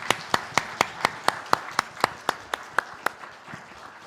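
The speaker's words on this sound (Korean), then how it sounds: "하나님께 영광의 박수를 한번 올려드리겠습니다." A church congregation claps together in a steady, even rhythm during a Sunday worship service, with about fifteen crisp, evenly spaced claps and no voices over them.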